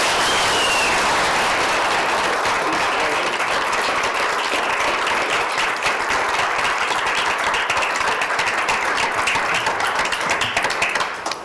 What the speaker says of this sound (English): We can just give them a round of applause.